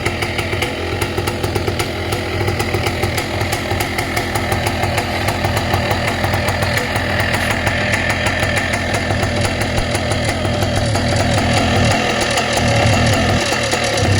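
A 78cc ATOM 80 two-stroke light aircraft engine running steadily, a loud, close, buzzing drone that holds constant throughout with no pauses or speech.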